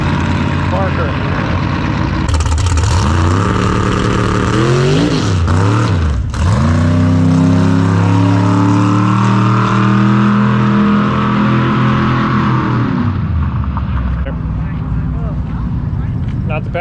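A Tesla Plaid and a big-tire 1969 Camaro drag race down a strip, the loud engine roar rising and sweeping in pitch as a car passes close, then fading as it pulls away down the track.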